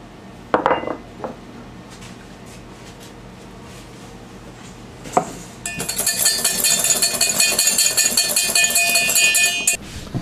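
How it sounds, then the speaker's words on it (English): Dry ingredients for sponge cake are stirred in a bowl with a utensil, a continuous clinking and scraping of metal against the bowl after a few separate knocks, with no talking. "we need to start by mixing the dry ingredients together"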